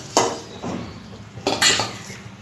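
Fried potatoes being scooped out of a pan with a metal utensil, giving a few brief scraping clinks and clatters in two separate bursts, close by with no talking.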